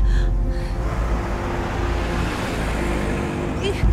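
A car drives along a road with a steady, close engine and tire rumble throughout, and a faint voice briefly audible near the end.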